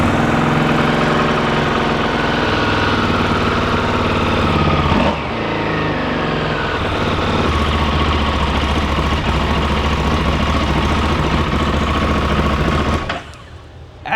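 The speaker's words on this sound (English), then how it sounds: "as we should do on every motorcycle, and hit that start button until she fires up." A Buell Super Cruiser motorcycle engine fires up cold and settles into a loud, steady idle, with a brief change in pitch midway before cutting off near the end.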